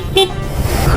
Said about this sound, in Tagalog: Ganito yung busina niya.